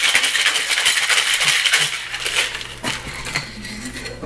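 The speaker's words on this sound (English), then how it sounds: "Now we're gonna add our ice. And then we're gonna give it a really good shake." A cocktail shaker packed with ice is shaken hard for a Rose Sidecar, giving a loud, steady rattling churn of ice against metal that runs throughout and eases slightly toward the end.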